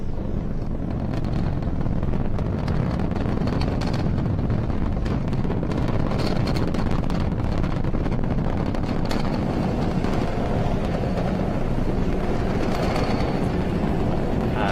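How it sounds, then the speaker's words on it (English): A SpaceX Falcon 9 rocket lifts off carrying an X-37B spaceplane, a dense unbroken roar rumbling steadily from a distance, roughened by wind buffeting the microphone, with no voices. "We've had successful liftoff of the Falcon 9"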